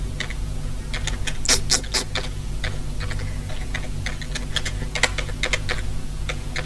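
Rapid, irregular clicking of keys on a computer keyboard, close up, with quick bursts and short pauses and no voices.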